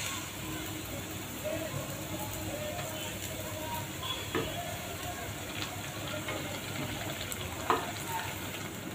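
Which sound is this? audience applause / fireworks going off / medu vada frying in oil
medu vada frying in oil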